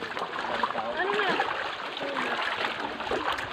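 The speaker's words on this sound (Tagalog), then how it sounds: "tatawid muna kami ngayon sa ilog" Water splashes and rushes steadily as people wade across a river on a summer family outing, with voices faintly mixed in.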